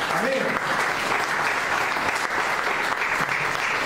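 A church congregation claps loudly and steadily as an offering of applause during a sermon, a dense unbroken wash of hands with voices mixed in throughout.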